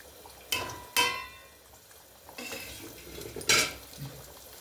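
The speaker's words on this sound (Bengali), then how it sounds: "তো এবার এই মাছ 2খানা এবার ঝোলের মধ্যে দিয়ে দিচ্ছি, আর 1খানা এলাচ।" Rohu fish pieces and a crushed cardamom pod added to a simmering potato curry in a village kitchen, with a few sharp utensil clinks against the pot and soft splashing stirs, close and fairly quiet.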